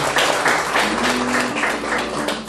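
Audience at an outdoor neighbourhood political rally applauding, a dense burst of clapping with a few rhythmic swells, steady and fairly loud throughout.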